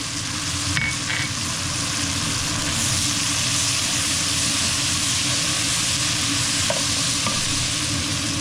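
Carrots, leeks and garlic frying in a pan for braised beef short ribs: a loud, constant sizzle with a faint stir or clink of a utensil near the start.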